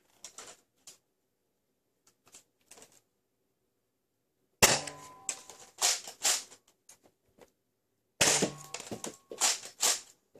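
A Nerf Hyper Impulse-40 toy blaster fires in two quick bursts of sharp, rapid pops and rattles, separated by quieter clicks and brief pauses, close by with no talk.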